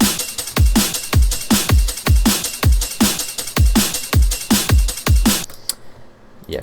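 Electronic drums in an FL Studio arrangement, with punchy booming kicks with falling pitch tails landing on a steady beat about twice a second alongside bright crisp hits, loud and alone before cutting out near the end.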